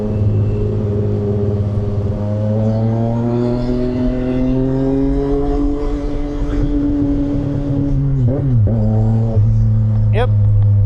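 A 2025 CFMoto 675SR-R inline-three motorcycle accelerates hard, its close, loud engine note climbing steadily through the revs before dipping and rising again at gear changes, with a rider's voice over it.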